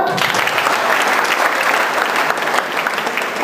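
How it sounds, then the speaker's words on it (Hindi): A college class claps hands in a dense, loud burst of applause filling the room, steady throughout without talk on top. "ताली बजाओ।"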